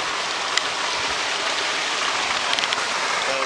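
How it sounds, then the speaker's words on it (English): A river flows near a waterfall on Maui, a steady, broad rushing of water heard up close, continuous and even with no voices over it. "The rivers just keep on flowing."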